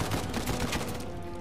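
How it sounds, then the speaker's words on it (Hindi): Dense, continuous gunfire from Uncharted 4: A Thief's End, with overlapping shots blurring into a sustained roar, close and fairly loud, with no talk. "गोली लग रही है तब भी गोली चलाया जा रहा है"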